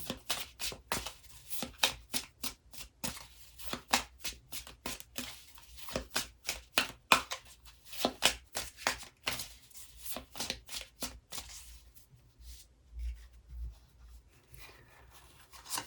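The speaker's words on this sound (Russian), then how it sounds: "И дополнительные карты возьмем из колоды Ленорман." Tarot cards from a plant-and-herb deck and Lenormand cards are shuffled by hand, a long run of crisp, close riffling slaps in quick irregular rhythm, tapering into softer sliding and handling toward the end.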